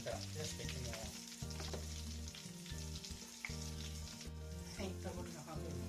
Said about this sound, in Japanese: 残りの半分も揚げていきます